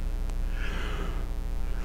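A person yawns once, a drawn-out breathy exhale that rises and falls over a couple of seconds, close to the microphone over a constant background hum.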